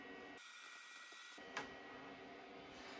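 A Creality CR-10s Pro V2 3D printer playing a short tone through its small built-in speaker, a thin steady beep that cuts out briefly before resuming, with a soft click partway through.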